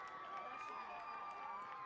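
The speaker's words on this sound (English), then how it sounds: "The crowd goes wild here in Wayne Valley" A high school soccer crowd at Wayne Valley cheers and shouts after a goal, a distant, steady roar that hangs at a constant level.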